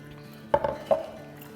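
A whisk stirs a garlic and flour batter as liquid is added for boti kabab, giving a few quick clinks against the bowl up close over a quiet background.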